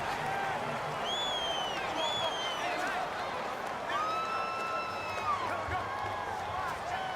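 A stadium crowd at a home football game, Falcons against Saints in the 2018-19 NFL season, keeps up a steady roar with shouts and whistles rising over it, distant and continuous.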